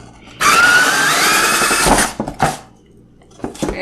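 A power drill cuts a hole through drywall in a small wall model, whining loudly and steadily for about two seconds, then stopping and restarting in brief bursts.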